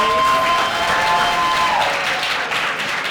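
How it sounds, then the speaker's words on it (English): Steady applause from a crowd, dense clapping throughout with a brief whistle or tone near the start, moderately loud. "Clap it up for our July birthdays."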